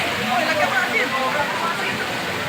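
Alulod falls in Bulihan pouring steadily, a broad, even hiss of falling water heard close by, constant throughout with a speaking voice faintly mixed in.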